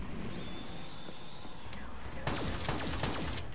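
Gunfire in Black Ops 3 zombies mode, a dense loud rattle of shots breaking out in the latter half over steady game ambience.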